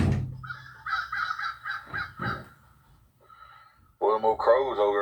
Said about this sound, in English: them old crows over in the trees are talking to us this morning